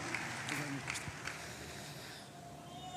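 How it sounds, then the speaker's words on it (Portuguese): Church congregation applauding at a men's state congress as a pastor arrives, with scattered claps and crowd noise that fade after a couple of seconds, leaving a murmuring room. "Vamos receber com uma salva de palmas bem forte."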